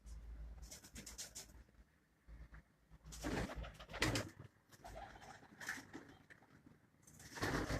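Pigeons on a rooftop loft, soft repeated cooing and wing flutters at moderate distance, quiet with irregular bursts of movement, no talking.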